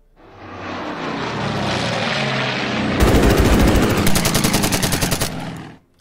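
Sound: aircraft attacking in the video game Order of Battle

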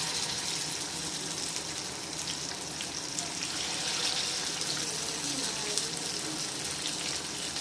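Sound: masala-coated fish placed into hot oil, frying

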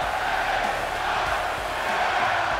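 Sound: crowd cheering for LA Knight in WWE 2K24 video game

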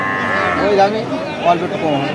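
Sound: dairy cow mooing at a cattle market

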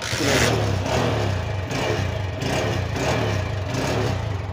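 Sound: TVS Star City Plus 110cc motorcycle engine kick-started and running

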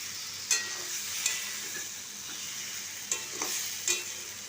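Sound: ridge gourd and potato frying with ground paste

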